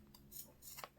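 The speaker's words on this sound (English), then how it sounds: "then I can clean off those edges with my scissors" Scissors snip a paper edge on a handmade paper-craft pocket in a few quick, quiet cuts, close and soft, with no talking.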